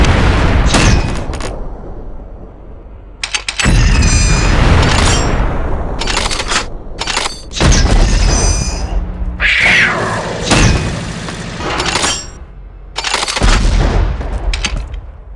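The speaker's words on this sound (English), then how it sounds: "I've given you some incendiary grenades, so load them up and prepare for a show." Incendiary grenades burst one after another in the first-person shooter Unreal 2, each a loud, close boom with crackling fiery tails. Between the blasts come brief quieter gaps.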